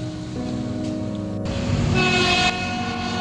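A train passes an illegal, unofficial level crossing at Citayam, its horn sounding in a long, loud, steady tone over the rumble of the rail cars, swelling brighter near the middle before easing off.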